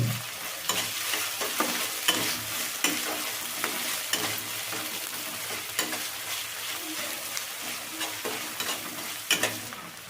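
Small-chopped tomato pieces fry and sizzle in a pan for an egg keema curry, with repeated spatula scrapes and stirring knocks over a continuous crackle, close and moderately loud.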